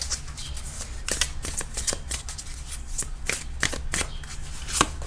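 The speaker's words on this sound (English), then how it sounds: "If I could shuffle." Tarot cards being shuffled by hand, a rapid series of crisp riffling snaps and flutters repeating for several seconds, close and fairly loud over a low steady hum, no talk.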